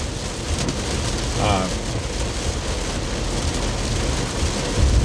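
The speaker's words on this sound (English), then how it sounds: "the rain really started coming down just now" Heavy rain pours down in a dense, steady hiss, pattering on surfaces with a faint vehicle rumble beneath. Someone speaks briefly over the downpour.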